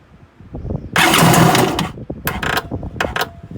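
A Kawasaki JS300 stand-up jet ski engine cranks in a close, loud burst of about a second, followed by two shorter cranking attempts.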